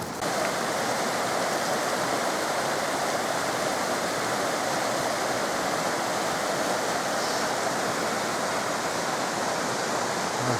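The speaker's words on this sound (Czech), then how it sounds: "Máme aspoň trošku zurčení potůčku místo kravhálu motorek." Babbling brook beside a road on a motorcycle tour through Bosnia, a steady, close rushing and burbling of flowing water with no break and no voices.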